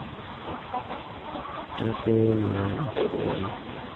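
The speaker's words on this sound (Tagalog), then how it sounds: "Yan, kumakain na po mga manok." Chickens on a chicken farm cluck and murmur in a busy flock while eating, with a brief stronger harmonic call partway through and steady background noise.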